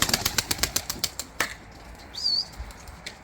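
A white pigeon in a backyard coop beats its wings in a rapid, loud, close flurry of flaps, then the clapping fades and a brief thin chirp follows.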